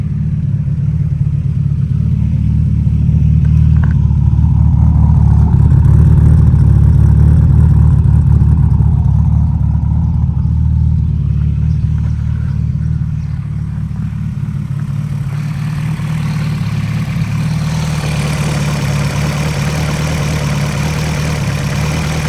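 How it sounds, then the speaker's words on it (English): A car engine running with a new throttle body holds a steady, loud, low rumbling idle throughout, close up and without speech. "With the new throttle body, it actually holds idle"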